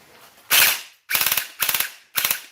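A gel blaster firing gel balls fed from its magazine: four sharp, loud shots, the first a single crack and the next three short rapid bursts of several quick pops each, separated by brief pauses.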